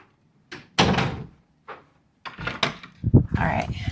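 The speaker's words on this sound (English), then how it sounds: "going through 5 million doors to keep cats out" Household doors open and close in a row indoors: several separate thuds and latch knocks spaced out over a few seconds, with rustling and movement between them.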